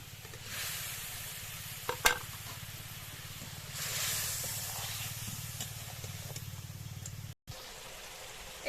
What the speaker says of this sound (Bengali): এবার ভেজে রাখা মাছগুলো ঢেলে দেব।